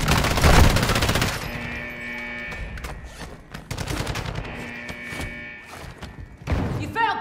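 Bursts of automatic and single-shot gunfire in Call of Duty DMZ, with a loud volley at the start, then sporadic mid-distance shots and rattling fire continuing across the clip.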